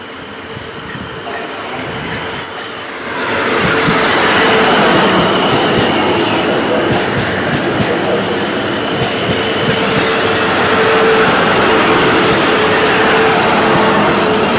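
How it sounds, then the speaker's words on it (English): A train rumbles closer and passes, its roar swelling to a loud, sustained rush of wheels and rail noise that stays close. "So there is a train to come in a second."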